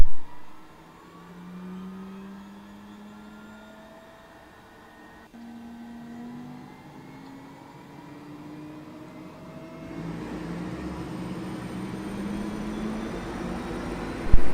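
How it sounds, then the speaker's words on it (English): Cessna Caravan turboprop engine starting up in Microsoft Flight Simulator X: a rising whine of the turbine spooling up slowly over several seconds, then a louder, steady roar settling in as the engine runs, no talking. "And we're going to control it to start up our engine on this caravan."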